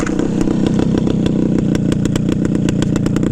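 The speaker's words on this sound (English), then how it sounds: "Listen to this thing idle." A 1971 Yamaha RT1 360 enduro motorcycle engine idles steadily and loudly up close, a rough, rapid chugging with a clattery mechanical rhythm and no talking.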